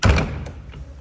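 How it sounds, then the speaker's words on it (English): A heavy door pushed shut inside Canterbury Cathedral gives one loud, low thud at the start, followed by a short fading rumble and faint room noise. "was trying to close the door"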